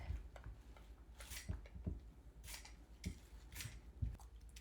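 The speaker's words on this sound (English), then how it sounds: "Okay, so peel the potatoes." Potatoes being peeled with a peeler, a series of short scraping strokes in an irregular rhythm, close and fairly quiet, with light knocks between strokes and no talking.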